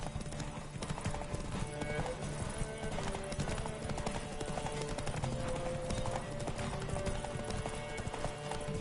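In The Witcher 3, the horse Roach gallops steadily throughout, its dense hoof clatter running under game music and a faint voice.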